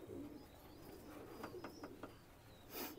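Pakistani Teddy pigeons cooing faintly at a pigeon sale, a few soft calls over low background noise, then a brief rustling burst near the end.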